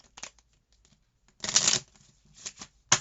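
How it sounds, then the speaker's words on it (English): Playing cards are riffled in a few quick, soft bursts, with quiet gaps between them. "So we're going to do 6 shuffles"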